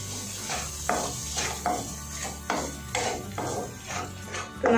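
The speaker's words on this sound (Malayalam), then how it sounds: "ഇനി ഇതും നന്നായിട്ട് മെൽറ്റ് ആകുന്നത് വരെ നമുക്കൊന്ന് ഇളക്കി കൊടുക്കാം." Amla pickle with added salt stirred in a pot, a spoon scraping in a steady rhythm of about five strokes with sharp clinks against the metal, close and fairly loud over a low hum.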